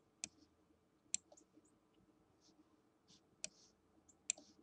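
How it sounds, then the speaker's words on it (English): Sharp, isolated clicks of a computer mouse, four distinct clicks spaced irregularly over a quiet background with faint hum, close to the microphone. "I'm sorry for the clicking noise of my mouse."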